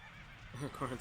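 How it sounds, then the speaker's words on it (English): A horse in Fire Emblem Warriors whinnies in a short, shaky, wavering call that rises over a steady game background, fairly faint. "The suffering horse!"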